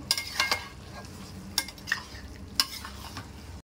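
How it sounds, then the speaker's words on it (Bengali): Chicken coated in yogurt, salt and masala spices being stirred and fried in hot oil in a pan, with scraping strokes of a spoon and occasional sharp clinks against the metal over a steady low sizzle. "এবার একটু চিকেনটা দিয়ে মশলাটা কষাবো।"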